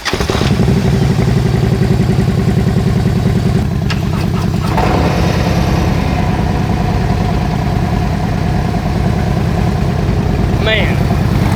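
A custom 2023 Harley motorcycle engine starts and settles into a loud, close, steady idle with a deep, throbbing rumble that runs throughout.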